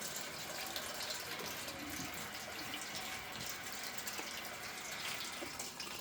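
Water rushes and drains out of a Primo water cooler being flushed during cleaning, a steady, fairly faint gushing stream that runs without pause and with no talking.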